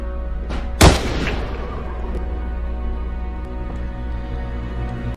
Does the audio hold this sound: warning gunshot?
yes